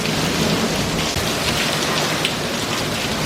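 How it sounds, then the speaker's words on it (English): A sudden rainstorm with wind, heavy rain pouring in a dense, continuous hiss with a low rumble underneath, loud and close, no talk. "Well, it just started to storm."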